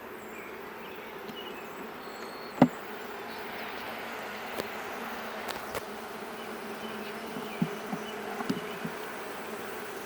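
Honey bees at a swarm hive hum in a steady, close buzz, with a few faint knocks and clicks from handling frames scattered through it.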